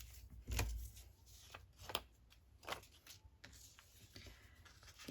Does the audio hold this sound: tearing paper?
yes